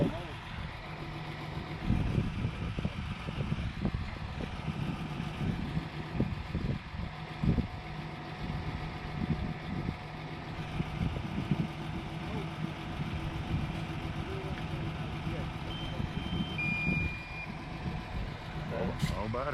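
A truck engine rumbles at a concrete-pumping construction site for a boat ramp, with repeated reversing beeps sounding over the steady engine noise and occasional clanks; a voice talks at points.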